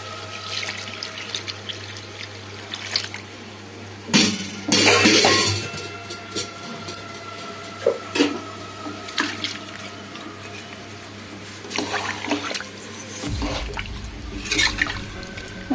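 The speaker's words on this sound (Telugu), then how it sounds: "ఇప్పుడు 4 గ్లాసులు వాటర్ పోసుకుందాం." Water poured from glasses into a cooking pot of rice for chicken biryani, several separate splashing pours between quieter handling noises and a low steady hum.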